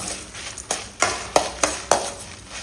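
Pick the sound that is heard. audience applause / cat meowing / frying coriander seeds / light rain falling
frying coriander seeds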